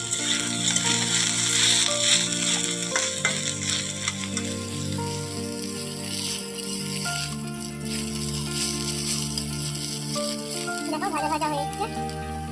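Spice paste sautéing in a pan in a Bengali home kitchen, a soft steady sizzle under background music and a voice speaking Bengali throughout.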